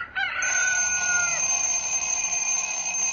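A rooster crows once, loud and close, its long drawn-out call trailing off, while a steady high electronic alarm-clock ring sounds continuously underneath and carries on afterward.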